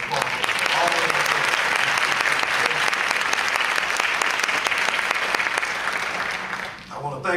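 An audience at a school-system event bursts into long, loud applause that holds steady for several seconds, then dips briefly and picks up again at the close, with some voices mixed into the clapping.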